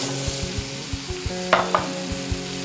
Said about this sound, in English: And then you want to add in your potatoes